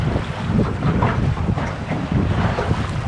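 Strong wind buffets a fishing boat at sea, a loud, continuous roar of gusts and microphone rumble with water sloshing beneath. There are no voices.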